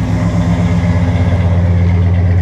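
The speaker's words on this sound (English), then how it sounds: "Good motor. Listen to that. And idle." An old pickup truck engine idles steadily right after starting, a loud, close, even low rumble with a smooth throb and no other sounds.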